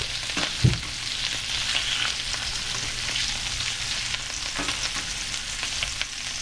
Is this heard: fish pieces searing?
yes